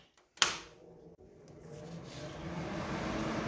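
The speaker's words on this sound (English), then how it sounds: "let's see if this fan comes on" An electric fan clicks on and then spins up, its airy whoosh swelling steadily louder and holding as a continuous broadband rush, with no talking.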